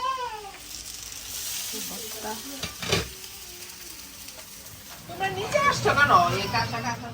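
Chillies brought from home fry in oil with a crackling sizzle and stirring scrapes. Voices and tonal, cat-like sounds run over it, growing busier near the end.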